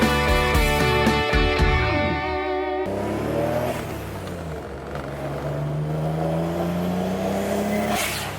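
A boosted Pontiac GTO engine revs hard and loud, pitch sweeping up and down in surges, with a rising wail near the end and no talking.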